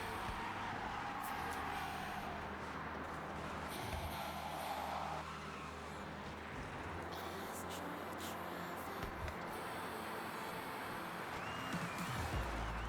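A car engine in the racing game Forza Horizon 6, sounding glitchy and bugged, gives a faint, continuous drone with shifting tones that runs steadily under a low background mix.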